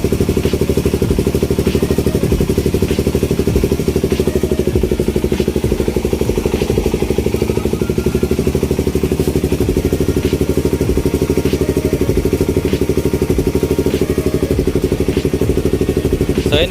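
A Honda Raider 150 motorcycle fitted with dual carburetors idles close by, its engine note loud and continuous with a steady mechanical clatter that rises and falls slightly, and no voices over it.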